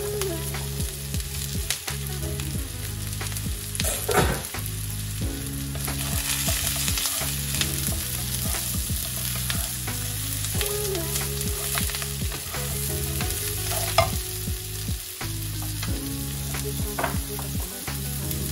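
Small carrots fry in a hot pan while chicken ballotines with basil cook, a loud continuous sizzle broken by regular scraping and stirring knocks close by, with no talking.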